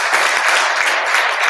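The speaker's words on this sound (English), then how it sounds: "let's give another round of applause to these amazing ladies" An audience at an art salon claps in a thick, continuous wash of applause, fairly loud and even, with no other sounds on top.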